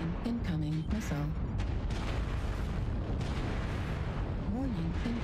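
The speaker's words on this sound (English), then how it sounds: "Artillery strike online." Artillery strike explosions in MechWarrior Online, with a Fafnir mech in the fight, make a dense, continuous rumble of blasts and booms. A voice talks briefly over the opening of the barrage.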